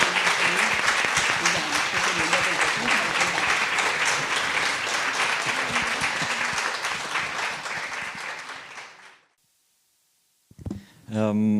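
Warm, sustained applause from an audience at an art lecture and catalogue launch in Venice for an artist, steady and full before dying away to silence, after which a person begins speaking.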